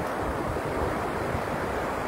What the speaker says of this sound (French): regardez ces vagues, plus elles viennent